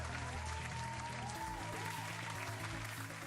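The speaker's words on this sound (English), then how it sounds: "Hopefully you can hear those claps coming through." Dense clapping heard faintly through a livestream during play of Ascendancy on PC, a continuous muffled applause with a low hum underneath and a few vocal whoops.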